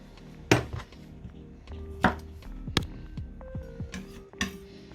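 A knife chops through bits of herbs for green seasoning on a cutting board, several distinct sharp knocks at uneven intervals with small clinks between, close and alone.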